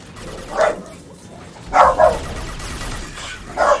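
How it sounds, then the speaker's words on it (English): A pet dog barks in a nearby room, three separate short barks spaced over a few seconds, heard over quiet background sound. "Sorry, my dog's barking."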